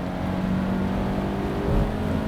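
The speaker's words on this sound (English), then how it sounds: "it really likes to rev up the RPM range" A 2021 Hyundai Elantra's engine revs up through its RPM range, a steady smooth drone heard from inside the car, moderately loud and rising slightly toward the end, with no talking.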